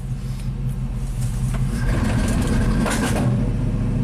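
A 1987 GMC V8 plow truck engine runs rough, its low rumble surging unevenly with a few sharp pops and sputters. The sound is close and steady for about four seconds.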